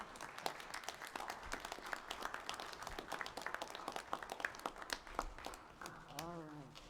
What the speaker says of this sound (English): And yes, you may applaud.